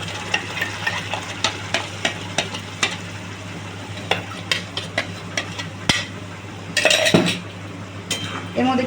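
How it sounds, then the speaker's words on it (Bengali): A spatula stirs paneer momo filling mixed with a pasted sauce in a metal pan. Regular scraping clinks repeat every half second or so over a low frying sizzle, with a louder clattering burst near the end. "সামান্য একটু নাড়াচাড়া করে নেবো।"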